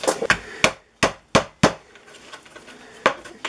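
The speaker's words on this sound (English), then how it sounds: "Y'all need to have kitchen hammer." A kitchen hammer pounds dehydrated Chicken of the Woods mushroom in a home kitchen, delivering about seven sharp, close thwacks in a quick uneven rhythm, followed by a quieter gap and one final strike.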